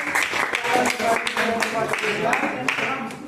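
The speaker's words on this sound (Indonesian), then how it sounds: "Oke, tepuk tangan untuk kelompok yang ke depan" A classroom of students claps for a group of classmates heading to the front, scattered uneven claps mixed with chatter and a teacher's voice talking over them.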